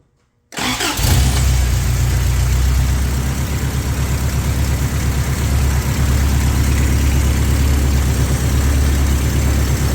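An 1984 Toyota pickup engine cranks and fires after a brief silence, then settles into a loud, steady, rhythmic idle close by.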